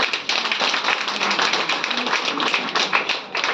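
An audience at a Women's Day celebration claps loudly and continuously, a dense, even wash of many hands with no pauses and no voices on top.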